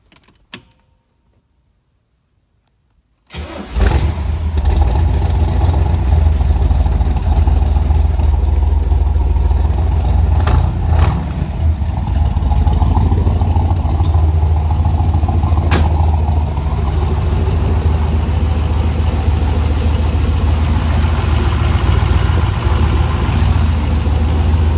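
A forklift engine is started on its battery after about three seconds of silence, catching with a burst and then settling into a loud, steady, close-up idle with a few brief revs and clunks over roughly twenty seconds.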